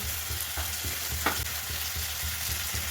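Tomato sautéing with onions in a pan sizzles steadily while a spatula scrapes and stirs in regular strokes, close and unbroken by speech.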